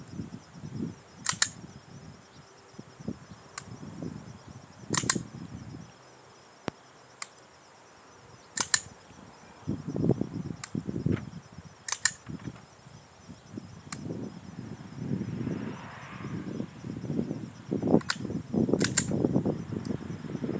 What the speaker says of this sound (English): Now, we're going to go ahead and do the dry fire.